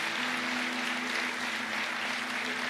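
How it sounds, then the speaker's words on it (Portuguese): Applause from a church congregation, a dense, steady crackle of many hands clapping at once, with a faint sustained tone running underneath and no clear voices. "Aplauda Jesus, meus amigos, por essa igreja"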